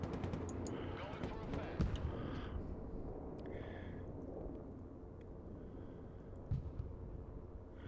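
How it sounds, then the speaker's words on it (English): In the Broken Arrow video game, a bomb hits and destroys a building. Two sharp blasts stand out over a dense, rumbling din of battle and gunfire, with talk mixed in throughout. "Oh yeah, there we go! Boom! That building is gone."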